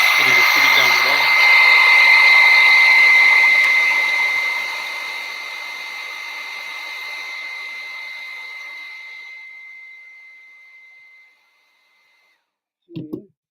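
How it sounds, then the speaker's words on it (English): A hair dryer blows steadily with a high whine, fading gradually over several seconds and then cutting off, followed by a brief clunk. "Oh, try the hair dryer"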